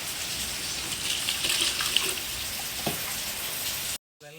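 Water gushes steadily into a cup, about one and a half cups' worth being measured for a homemade weedkiller; a continuous, close splashing pour runs for about four seconds, then cuts off abruptly.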